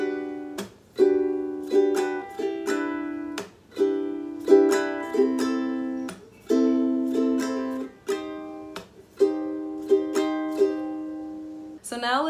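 Ukulele strumming the chords of a song in a down, stop, up, up, down, up pattern, with bright, steady, rhythmic chord strokes and short pauses, close and clear with no talk.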